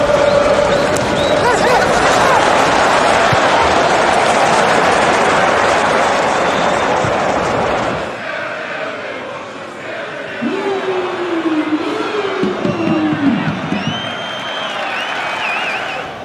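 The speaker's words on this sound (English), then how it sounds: "Crowd applauding the drop of the shoulder." A football stadium crowd applauds loudly in a dense, steady roar that fades after several seconds, leaving a commentator talking over the lower background hubbub.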